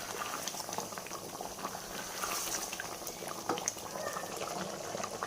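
Creamy shahi chicken kadai simmering in a pot, a close bubbling and popping of thick sauce with irregular small bursts, steady throughout and without speech.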